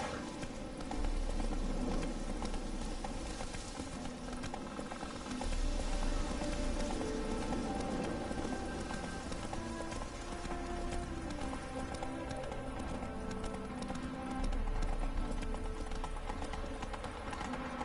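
A horse gallops in The Witcher 3, with steady, rhythmic clip-clop hoofbeats that continue throughout, carried over a constant wash of background sound.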